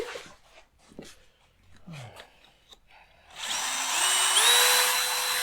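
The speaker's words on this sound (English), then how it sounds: "drill out the mounting hole" After a few faint knocks and rustles, a power drill whirs on and runs steadily, drilling a mounting hole for rear clearance lights, rising slightly in pitch as it bites in.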